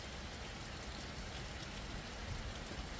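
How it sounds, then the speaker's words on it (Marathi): Heavy rain pours down in the Pardi Phata area of Washi taluka, a dense, unbroken hiss of falling water that stays steady from start to end with no voices. "वाशी तालुक्यातील पारडी फाटा परिसरामध्ये मोठा पाऊस पडत आहे"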